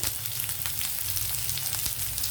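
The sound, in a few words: onions and curry leaves sizzling in hot oil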